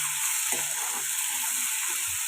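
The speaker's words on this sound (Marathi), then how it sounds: "तर आता मी चिरलेली शिमला मिरची, मिरची मस्त फ्राय करून घ्यायची." Chopped capsicum frying in a pan, a loud, hissing sizzle with a few soft stirring knocks underneath, steady throughout with no talking.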